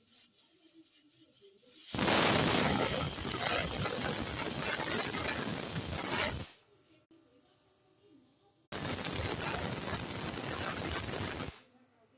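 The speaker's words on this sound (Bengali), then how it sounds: "তো আমি পাশেই প্রেসার কুকারে একটু কিছুক্ষণ চাপিয়ে নিয়েছি।" A kitchen pressure cooker vents steam while roasted vegetables and spices cook inside. It gives two long, loud, hissing whistles, each lasting several seconds, with quieter gaps between them.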